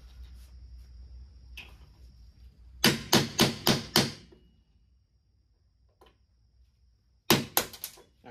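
Sharp metal-on-metal hammer blows driving a punch through metal during repairs on a 1989 Fox Body Mustang's power window and lock parts: a quick burst of five ringing strikes, a quiet pause, then another rapid cluster of hits.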